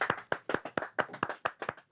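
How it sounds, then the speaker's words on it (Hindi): Clapping welcomes a guest onto a public-speaking show. It is sparse and rhythmic, with about a dozen distinct sharp claps in steady succession and quiet gaps between them, as if only a few people are clapping, and no talking under it. "तो आपके तालियों की गड़गड़ाहट के साथ बुलाते हैं फयाज को।"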